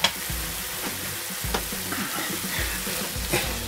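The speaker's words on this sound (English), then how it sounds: "get those stir fried really until the carrots are tender" Carrots, garlic, red onion, chilli powder, chilli flakes and ground cloves stir-frying in a pan for Indonesian nasi goreng: a steady close sizzle with repeated scraping strokes of the spatula, no talking.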